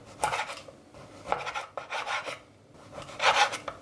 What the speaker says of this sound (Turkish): Kahvaltılık tarif olduğu için öncelikle sucuğu kesiyorum